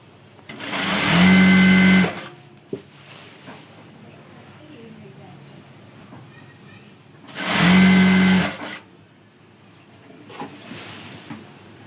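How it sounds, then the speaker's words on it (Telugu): A sewing machine stitches a straight seam on an umbrella frock in two close, loud whirring runs of about a second each, separated by a pause with speech and small handling noises. "ఇలా నీట్గా చూసుకుంటూ కుట్టు అనేది ఒకటి వేసుకోవాలి స్ట్రైట్గా"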